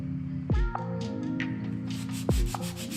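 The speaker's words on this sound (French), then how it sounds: "Je commence par poncer les bords pour enlever les taches d'eau et de graisse accumulées au fil des ans" Sandpaper rubs along the edges of a large, old tray stained with water and grease. It makes short, raspy scratching strokes under tonal background music, close and without speech.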